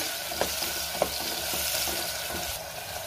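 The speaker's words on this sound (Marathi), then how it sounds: "कांदा मी 2 मिनिटं चांगलं परतून घेणार आहे।" Chopped onion sautéing in a hot pan produces a soft, continuous sizzle, broken by a few sharp spatula taps and stirring scrapes, with no one speaking.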